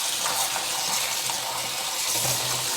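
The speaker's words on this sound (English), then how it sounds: "So I'm going to give these a couple rinses" Tap water runs and splashes over cut potato chunks in a bowl as they are rinsed of starch, a steady close gushing with sloshing bursts as the pieces are stirred, no voices.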